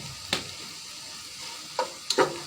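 Sugar being stirred into pumpkin frying in a pan, with a steady sizzle beneath three brief scraping stirs of the spoon spaced across a couple of seconds, close and moderately quiet.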